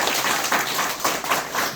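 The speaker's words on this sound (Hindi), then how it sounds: "ताली बजाउनुहोस्।" An audience at a Brahma Kumaris honour ceremony in Dhulabari, Nepal, claps together in a short, steady burst of applause, fairly loud and with no voices over it.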